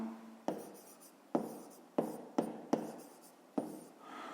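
A pen writes on paper during a fifth-grade maths exercise, with six short scratchy strokes at a steady, irregular pace, close and quiet, and no talking.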